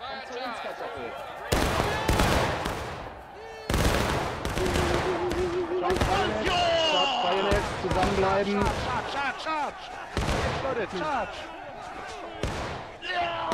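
Musket volleys crack out in the War of Rights battle game on the Garland's Stand map, with repeated loud broadband bursts in quick succession over shouting voices and battle noise.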